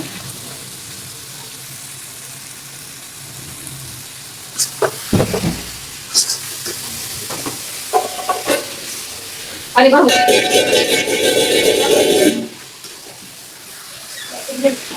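Spiced meat for haleem being stirred in a pot, soft sizzling with intermittent spoon scrapes and knocks, then a louder rush of running water for a few seconds before it quiets again.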